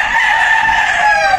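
A gamefowl rooster lets out a single loud, close crow, a sustained strained cock-a-doodle-doo filling the whole moment.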